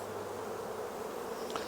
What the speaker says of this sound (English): The bees are doing fine.